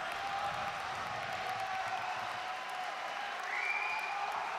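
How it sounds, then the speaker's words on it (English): An esports arena crowd at a Call of Duty championship match cheers and applauds in a steady, dense roar that holds level throughout, with no voice on top. "The crowd getting behind Splyce right now."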